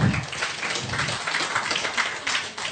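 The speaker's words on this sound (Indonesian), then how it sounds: "Sekali lagi tepuk tangan biar tambah semangat." A debate audience claps steadily and fairly loudly throughout, a dense wash of applause with no break.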